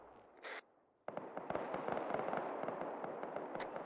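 Sustained heavy gunfire from a military video game mod, dense crackling bursts and rapid overlapping shots filling the scene after a brief quiet start, loud and continuous with a short high tone near the beginning.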